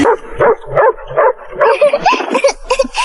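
A small mongrel dog in an animated fantasy drama gives a rapid series of close yips and barks, with a little whimpering mixed in.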